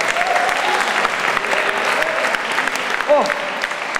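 Audience applause for a slam poet named Guillaume at a poetry slam, dense steady clapping throughout with a brief voice rising over it near the end.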